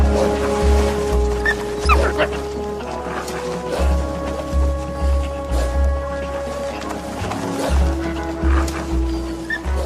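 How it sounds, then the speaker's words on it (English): Hungry wolves tear at meat in the Siberian wild, snarling and growling at each other in rough, overlapping bursts over a steady low background rumble, close and fairly loud. "The hungry wolves attack the meat with such ferocity that they even intimidate each other."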